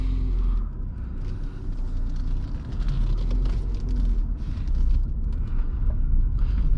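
Peugeot RCZ coupe on the move, heard from inside the cabin as a steady low engine drone with road rumble, continuous and fairly loud throughout.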